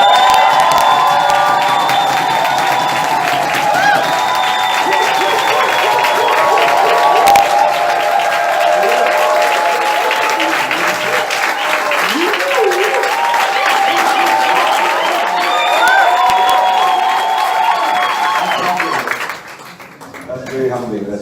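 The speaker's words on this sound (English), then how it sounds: "please help me welcome with the loudest, biggest, maybe on your feet, most joyous and crazy applause, Mr. Maurice!" An audience at a DivH COTii event breaks into loud, sustained applause and cheering that goes on steadily for about nineteen seconds, then drops away abruptly into quieter room noise.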